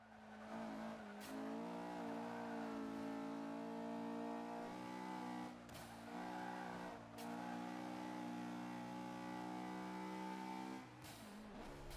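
A B-class race car in the Forza video game labours uphill at Bathurst, its engine droning at a sustained high rev with smooth harmonic whine, briefly dipping at a few gear shifts, loud and continuous without speech.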